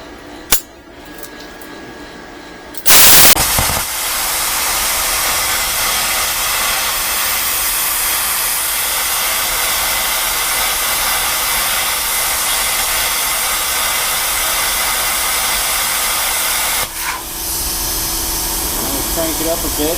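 A 55-amp 120/240V IGBT plasma cutter with high-frequency start cuts 5/8-inch steel plate, a loud continuous hissing roar that starts with a sharp burst around three seconds and runs steadily to the end, with brief clicks beforehand.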